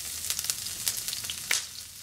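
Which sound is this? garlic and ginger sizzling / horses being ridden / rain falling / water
garlic and ginger sizzling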